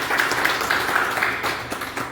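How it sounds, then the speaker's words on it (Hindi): Audience applause at a business meeting, a dense, steady wash of many hands clapping that fills the whole stretch at moderate loudness and tapers slightly at the end. "एक जोरदार ताली होनी चाहिए"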